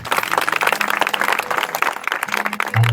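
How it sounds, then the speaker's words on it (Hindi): An audience at a Hindi-speaking Christian prayer and healing meeting bursts into lively clapping. Uneven, crisp claps come from many hands close by, with a low hum beneath and a brief swell at the end. "बजाइए ताली यीशु के नाम।"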